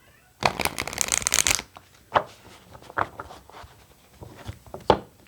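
Tarot cards are riffled in a quick, dense shuffle lasting about a second, followed by scattered soft taps and card handling nearby.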